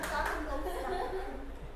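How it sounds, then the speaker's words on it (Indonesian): Brief clapping for a presenter at a school-change discussion session, a short dense patter of hands with voices talking over it. "Tepuk tangan buat Miss Windy."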